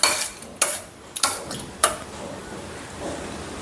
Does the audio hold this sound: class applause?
no